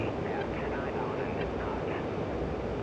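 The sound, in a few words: F-15C jet engine as throttle is pushed forward, DCS video game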